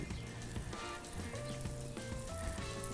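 Butter sizzles in a hot skillet set on a grill, a steady, dense crackle that holds close and loud throughout with no talking.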